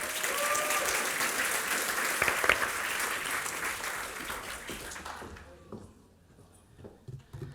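Audience applause at an evening event honoring someone's effort, a full, dense wash of clapping from many hands that swells, then thins and fades out over the last couple of seconds.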